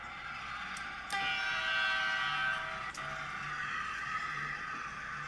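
Model trains run on a layout with a continuous rolling rumble and hum, a steady horn-like tone sounding in bursts, and a couple of sharp clicks, heard close with no talking.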